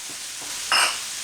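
Ham hits a hot frying pan for a smoked ham and bacon hash, a steady background fizz swelling into a louder, brighter sizzle as the meat lands, then settling back to a continuous crackle.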